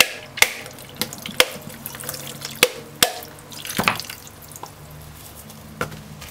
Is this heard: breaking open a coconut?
yes